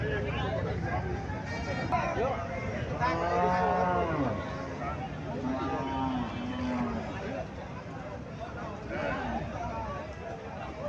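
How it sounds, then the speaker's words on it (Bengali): A skinny cow at a busy cattle market lets out several deep, drawn-out moos spaced a few seconds apart, heard over a constant din of crowd chatter and nearby voices. "এখানে একটা গাভী দেখা যাচ্ছে, হাড্ডিসার গাভী।"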